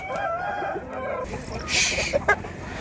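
A rooster crows loudly and close by at a poultry market, one drawn-out call with a sharp rise, over a faint background hum.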